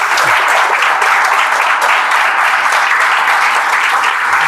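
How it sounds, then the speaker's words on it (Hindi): A crowd applauds loudly and continuously, close and even, with no pause, in a gathering celebrating a village's first IIT graduate. "ताली बजा दीजिए भाई।"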